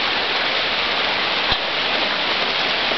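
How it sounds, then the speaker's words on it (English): Steady hiss of rain falling, heard from a front porch, an even wash of noise with a single soft thump partway through. "But I'm just so glad it's raining"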